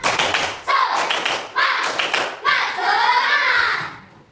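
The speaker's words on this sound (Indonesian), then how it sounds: "biar tambah semangat kita tepuk semangat dulu" Children perform a rhythmic spirit clap in an elementary classroom, several bursts of sharp, loud hand claps in a patterned beat, close and bright, with children's voices chanting along.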